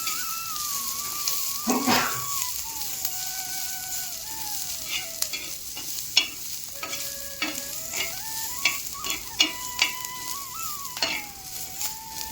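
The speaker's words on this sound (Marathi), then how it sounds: "नंतर बेसनचं पीठ तेल टाकून घ्यायचं. चांगलं परतते." Gram flour (besan) sautéing in oil in a pan for a traditional village-style goLyachi bhaji, with a steady sizzle and repeated scraping stirs, while a faint tonal whistle drifts in the background.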